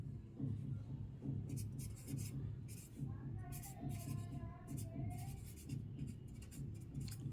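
Pen or chalk writing out a Kjeldahl method chemistry problem, soft rhythmic scratching strokes in short bursts, faint and close, with occasional quiet speech underneath.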